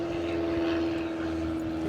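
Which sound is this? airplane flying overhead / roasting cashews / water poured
airplane flying overhead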